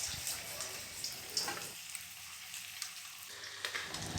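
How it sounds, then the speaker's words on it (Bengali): Battered chicken pakoras are dropped into hot white oil in a wok, giving a soft, steady sizzle and bubbling heard faintly and close, with no talking. "এরপর আমি কড়াইতে দিয়ে দিচ্ছি সাদা তেল। একে একে এবার এগুলো ভেজে নেব।"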